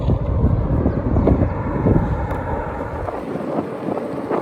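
Strong wind roaring and buffeting the microphone while skateboarding downhill on a windy Wyoming road, loud and constant with a slight easing near the end.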